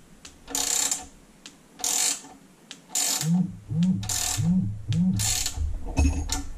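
Wrench ratchet clicking in short bursts while parts are fitted to a Solex 3300 moped, several quick near rattling runs with a thudding tap near the end and no talk.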